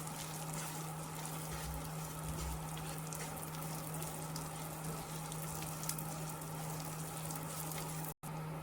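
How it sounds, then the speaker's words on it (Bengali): Almonds and cashews fry lightly in a pan with a steady, even crackling sizzle throughout, close and moderately quiet, with a low constant hum beneath and a brief cut near the end. "তো আমন্ড বাদাম আর কাজু দিয়ে দেব, এগুলো হালকা ভেজে নেব।"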